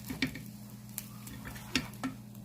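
Bread slices frying in a pan just after being flipped, as part of a quick breakfast snack. A steady low sizzle runs under a few light taps and clicks, close by.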